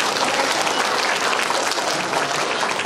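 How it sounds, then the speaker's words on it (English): Full, sustained audience applause at a PS 346 school awards ceremony, a dense continuous wash of many hands clapping, loud and even throughout. "So let's give our illustrious teaching staff a big round of applause as well."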